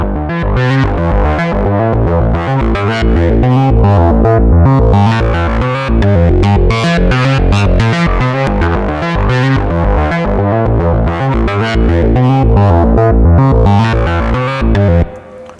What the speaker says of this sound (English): you can play around with the distortion as well